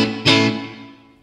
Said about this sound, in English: the reverb can go a little more subtle amp style